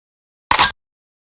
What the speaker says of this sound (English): We got the gun cock.